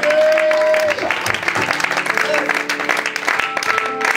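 A church congregation applauds during a French-language worship service, a burst of clapping heard together with sustained musical tones and a voice over the top.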